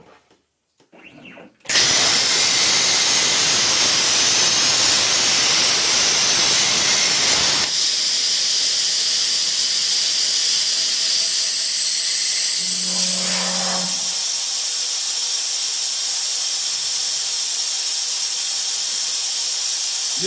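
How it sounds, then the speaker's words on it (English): A CNC plasma cutter cuts metal for a headlight upgrade, a loud, steady, close hiss and roar that starts abruptly and runs on continuously, with a brief low hum partway through and no talk. "I'm going to turn the cutter on, and we're gonna cut this thing for real."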